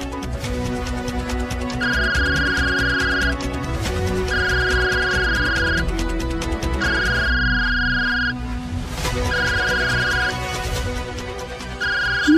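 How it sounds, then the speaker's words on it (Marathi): A phone ringtone plays a repeating electronic melodic phrase, cycling about five times at a steady level with no talking over it. "लागतोय का ग फोन?"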